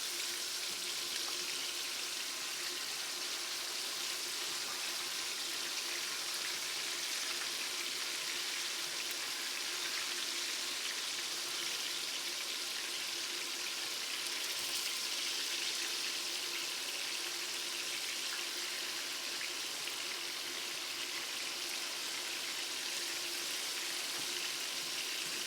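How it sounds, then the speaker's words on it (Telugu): Pieces of fish fry lightly in a pan of oil, giving a soft, even crackling sizzle that holds steady and unbroken from start to finish. "చేప ముక్కలు అయితే లైట్గా ఫ్రై చేస్తున్నానండి"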